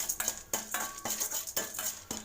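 Byadagi chillies are added to a pan with fenugreek seeds and stirred, making quick repeated scrapes and clinks of a metal spoon against the pan in a steady rhythm, close and moderately loud, with a faint sizzle.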